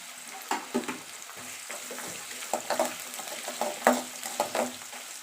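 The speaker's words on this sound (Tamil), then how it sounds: "இஞ்சி போடுறேன். அதோடைய பூண்டையும் போட்டு வதக்கிக்கலாம்." Chopped ginger and garlic sautéing in a pan for a home-cooked chicken gravy, a soft steady sizzle broken by several scraping stirs of a spoon against the pan, close and moderately quiet, with no voices.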